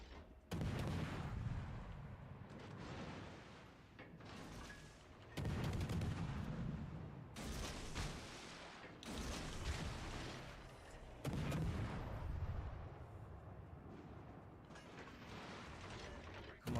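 Naval gunfire from warships in World of Warships Legends, with heavy broadband salvos booming in a loose rhythm every two to three seconds, loud and close, amid a continuous rumble of mechanical battle noise.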